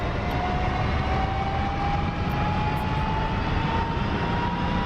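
Simulated helicopter turbine in DCS spinning up, a steady dense whoosh and roar with a thin whine slowly climbing in pitch, constant and fairly loud throughout.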